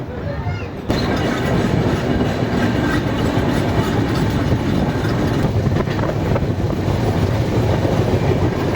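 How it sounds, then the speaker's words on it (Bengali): The Tamralipta Express from Howrah to Digha pulls away from a halt, with a loud, continuous rumble and rattle of the carriages on the tracks heard from inside the train. "1 মিনিট হল্ট করার পর ছেড়ে দিচ্ছে আমাদের ট্রেন দীঘার উদ্দেশ্যে।"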